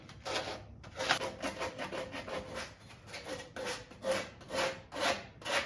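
Wood for a homemade body armor stand being sanded by hand with sandpaper, steady rhythmic back-and-forth rasping strokes, close and continuous with no talk.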